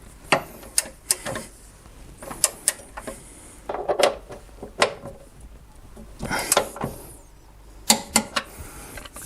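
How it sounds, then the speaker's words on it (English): A ratcheting torque wrench tightens a front suspension bolt on a Lexus LS 400, sharp clicking ratchet strokes in irregular bursts with short pauses between them, close and distinct with no talking. "Now it's time to torque this to spec."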